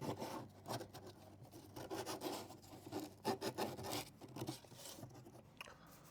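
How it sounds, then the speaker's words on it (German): Fine sandpaper rubs over a generator housing in uneven, rasping strokes, some soft and some scratchier. The sound is faint and close, with irregular pauses between passes. "Dafür gehe ich erstmal mit einem feinen Sandpapier drüber."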